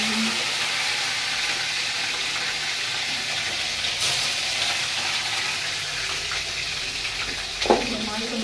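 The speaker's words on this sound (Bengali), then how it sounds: "আর এখন করবো হচ্ছে মাছ ভাজা" Fish frying in oil at home, giving a soft, steady sizzle with faint clinks and a short knock near the end, heard fairly quietly throughout.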